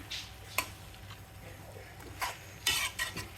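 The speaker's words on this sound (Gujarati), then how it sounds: "હવે બસ અને બસ મિક્સ કરી અને ચણાનો લોટ થોડો થોડો સ્પ્રિંકલ કરતો જવાનો છે અને મિક્સ કરતું જવાનું છે" Tomato, turmeric and salt are stirred in a pan while gram flour is sprinkled in, giving quiet scraping and clinking of a spoon against metal in a few short bursts over a low background hum.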